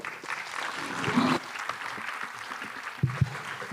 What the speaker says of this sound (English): a round of applause for the moderator, Ms. Arina Kok, and the panelists